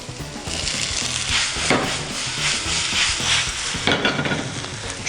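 Chanterelle mushrooms fry in a pan of olive pomace oil with shallot and lightly crushed garlic, giving a steady, close sizzle with scraping stirs and a few sharper crackles throughout, no voices.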